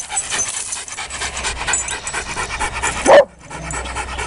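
A dog out on a hillside walk pants rapidly and close, a steady breathy rhythm that cuts off abruptly near the end after a brief whimper.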